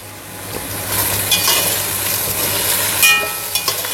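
Soya chunk pulao ingredients fry in a pan with a steady soft sizzle, punctuated by occasional scraping stirs and clinks, close and moderate in volume with no talking.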